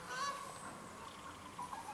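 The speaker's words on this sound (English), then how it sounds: "Some loud geese, right?" Geese honk loudly outdoors, several overlapping calls in quick succession.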